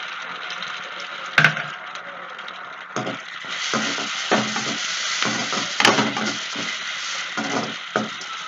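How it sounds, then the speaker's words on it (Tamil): Onion and tomato being sautéed and stirred in a pan for a Tamil-style spinach masiyal, with soft continuous sizzling and repeated scraping strokes of a spoon against the pan, close and steady. "இதெல்லாம் சேர்த்து நல்லா வதக்கிடலாம்"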